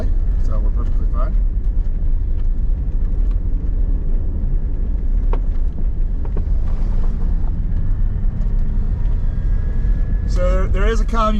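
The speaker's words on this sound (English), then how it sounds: "See, there's other trucks going by" Trucks roll past on the Tanana River crossing in Alaska, a steady broad rumble with wind buffeting the microphone throughout, while a person talks over the noise.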